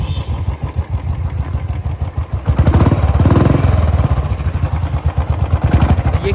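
Vintage Royal Enfield Bullet motorcycle engine, just restored after a ticking fault caused by burnt-out old engine oil, idles close by with a steady thumping beat, then revs up louder midway before settling back to a rhythmic idle.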